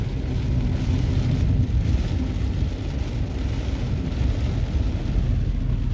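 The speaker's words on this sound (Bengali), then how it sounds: "জোর বৃষ্টি নেমে গেছে।" Heavy rain falls in early-morning Delhi near India Gate, a dense, steady roar of downpour with low traffic-like rumble, loud and continuous throughout with no voices.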